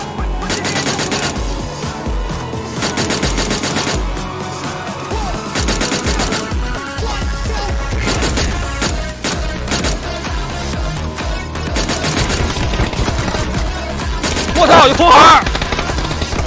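Gunfire crackles through a video game shooter in dense, rapid bursts that sit inside a loud, busy game mix with background music, and a player speaks over the action.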